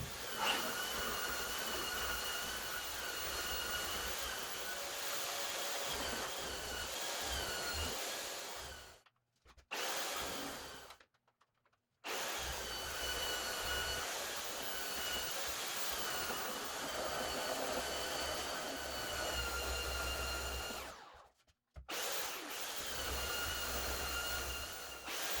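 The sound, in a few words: belt sander sanding wooden screw hole plugs smooth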